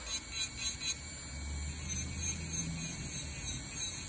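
An electric nail drill filing acrylic nails runs steadily with a continuous high-pitched whine over a low motor hum, close by, with no talking.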